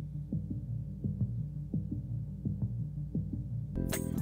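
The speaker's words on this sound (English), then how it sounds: "So I pitched it down, and it sounded a little like this." Stranger Things theme synth line pitched down, a low pulsing arpeggio with rhythmic throbbing notes repeating steadily and alone, ending in a brief bright burst of noise.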